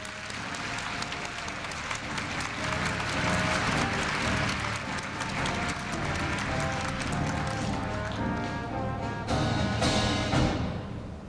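Sustained applause from a large audience at a 2015 Korea University freshman entrance ceremony, greeting a student representative receiving a new-student badge; dense, steady clapping that fills the hall for about eleven seconds with no voices over it.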